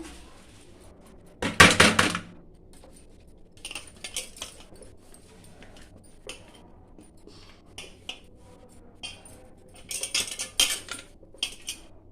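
Freshly ground kuthiraivali barnyard millet flour is shaken through a metal sieve, producing loud bursts of rattling and scraping with quieter taps between, close by and without talking.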